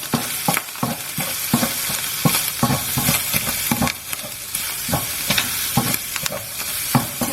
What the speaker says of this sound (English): Add a bit of oil, and I'm going to add that ginger garlic paste. Fry that for a few seconds.